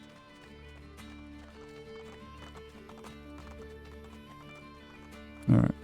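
Steady clip-clop of a horse's hooves at a running pace in the video game Assassin's Creed Brotherhood, over a droning background, ending with a sudden loud burst.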